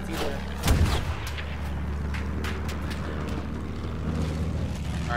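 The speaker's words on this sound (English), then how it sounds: "I'm getting shot at already." Gunfire and distant artillery-like booms in Battlefield 1, one heavy blast near the start followed by scattered shots over a constant low rumble of battle.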